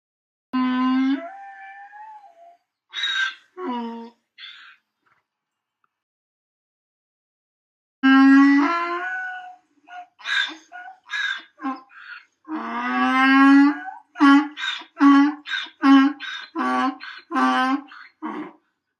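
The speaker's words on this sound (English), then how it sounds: "Donkeys say ee-ah. This is called braying." A donkey brays with a run of loud, harsh hee-haw calls, a short burst first, then after a pause a longer series of rhythmic, strained cries close to the listener.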